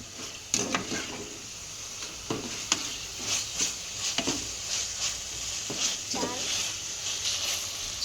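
Tomato meal maker rice being stirred and heated in a pan, with a steady soft sizzle and repeated scraping, clinking strokes of a spoon against the pan, close and clear, with no talking.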